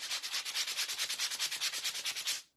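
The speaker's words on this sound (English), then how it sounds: "I'm using a 220 grit sanding block" A 220 grit sanding block rubs back and forth over thin layers of paint on wood, with about twenty rapid, even scratchy strokes, close and clear, with no talking.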